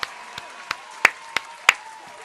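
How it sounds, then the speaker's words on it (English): Sparse applause for ASP, about six separate hand claps spaced unevenly over a couple of seconds, thin and isolated rather than a full ovation. "Let's clap it up for ASP."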